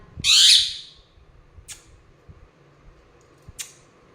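A pet parrot gives one loud, harsh squawk up close, followed by two short, sharp calls spaced a couple of seconds apart against a quiet room.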